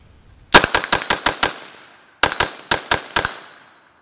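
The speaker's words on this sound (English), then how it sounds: "Let's see what the green tip does." Two quick strings of rifle shots with green tip ammunition from a 14.5-inch BCM upper, about six sharp, loud close cracks in each burst, separated by a short pause.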